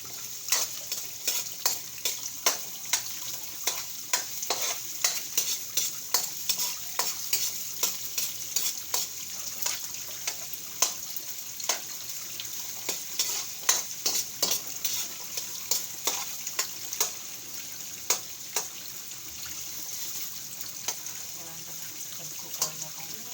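Chicken adobo fries in a pan over a moderate flame and is stirred steadily, giving a continuous close sizzle broken by dense scraping and clicking strokes of the utensil.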